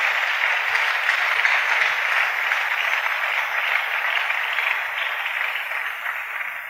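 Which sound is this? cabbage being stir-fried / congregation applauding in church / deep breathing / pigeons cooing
congregation applauding in church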